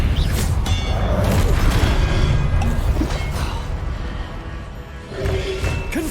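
Expelliarmus spell cast in the video game Hogwarts Legacy, a forceful whooshing impact within a continuous loud wash of combat crashes and rumbles.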